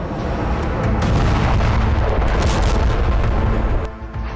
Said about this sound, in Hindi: अंधेरे में एक के बाद एक 2 मिसाइलें दागी गई।